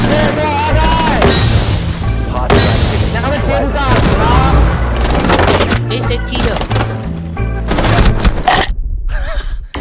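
Gunfire in Rainbow Six Siege crackles in loud bursts and booms mixed with game effects and music, with voices talking over it and a sudden drop near the end.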